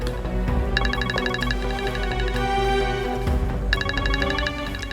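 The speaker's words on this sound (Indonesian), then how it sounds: "Kalang telepon, saya angkat dulu ya." Electronic telephone ringtone with a repeating high pulsed chime pattern that stops midway and then resumes, heard loud and close over a soft musical background in an indoor drama scene.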